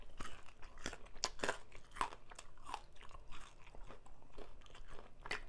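Thai crispy pork som tam being eaten, with a rapid series of sharp, close crunches from the crackling pork skin between softer chewing sounds, with no one talking.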